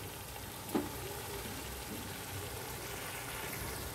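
Fish and Gobindobhog rice being stirred and fried in a pan over a medium-low gas flame for murighonto, a steady soft sizzle throughout with one brief utensil knock near the start.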